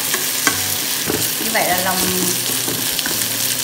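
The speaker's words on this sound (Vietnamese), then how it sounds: "Xào cái này cho nó chín luôn nhé." Banana, shallots and wood-ear mushrooms stir-fry in a pan over a wood fire with a continuous sizzle and scraping spatula strokes. A voice briefly speaks over the cooking.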